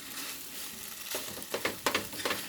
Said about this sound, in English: We're kind of frying up the veggies to get them nice and hot